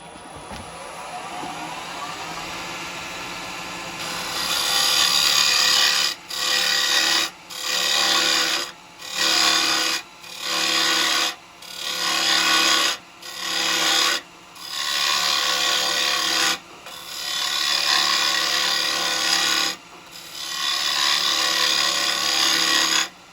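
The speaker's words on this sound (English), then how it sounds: "I'm hollowing right the way inside here" Carbide chisel hollowing and undercutting the inside of a wooden bowl spinning on a lathe: a loud, rough scraping rasp in repeated bursts of a second or so, separated by brief pauses as the tool lifts, after a few seconds of quieter lathe hum.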